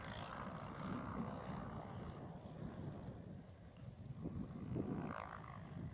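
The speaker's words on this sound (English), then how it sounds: "The tail doesn't usually want to make the turn on these small planes." A small plane flies overhead in strong, gusty wind, its engine a faint low drone buried under heavy rumbling wind buffeting the microphone, rising and falling across the stretch.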